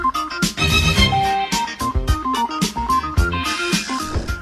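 A disco arrangement of Beethoven's Fifth Symphony plays loud and full, with a driving dance beat, bass and brassy orchestral stabs pulsing steadily throughout, no voices.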